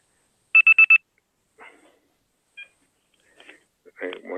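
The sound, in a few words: telephone dialing tones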